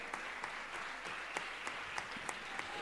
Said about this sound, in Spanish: ¡Aplauso a la gente,